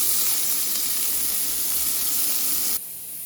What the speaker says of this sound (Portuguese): O feijão já está quase pronto, já está chiando.